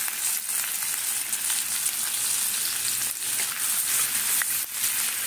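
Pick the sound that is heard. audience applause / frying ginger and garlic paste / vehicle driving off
frying ginger and garlic paste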